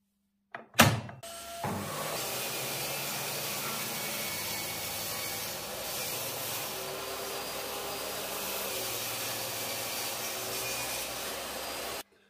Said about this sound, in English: So I'm going to rip these down on the table saw now